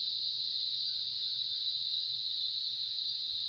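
Crickets chirp in a continuous high trill on a wooded university campus, steady and fairly faint, with no talking.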